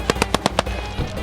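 Firecrackers go off at a Turkish wedding: five sharp, evenly spaced bangs in quick succession, loud and close, followed by a lingering noisy rumble of the celebration.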